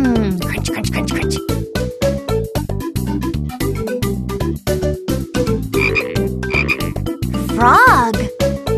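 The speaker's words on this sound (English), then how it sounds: "Frog jumps so high." A frog croaks continuously over a loud, busy musical backing in a children's animal-learning track, the croaks frequent and prominent, with no speech.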